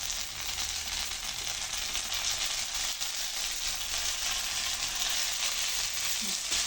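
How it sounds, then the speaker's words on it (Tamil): Prawns sauté in a hot pan for a prawn, dried fish and ponnanganni stir-fry, giving a steady, continuous close sizzle of frying with no voices. "கொஞ்சம் நேரம் வதங்க விடுவோம்."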